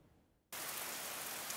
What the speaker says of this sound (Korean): 세찬 빗줄기에 시원함이 느껴지기도 하는데요